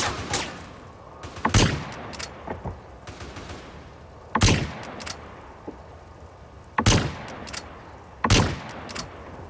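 Sniper rifle gunfire in the video game GTA San Andreas: four sharp, loud shots spaced a couple of seconds apart, each with a short decay, over low game ambience.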